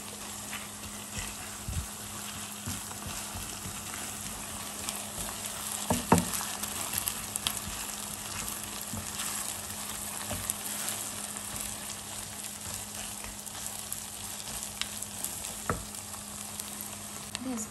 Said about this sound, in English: So I'm going to fry all of them together.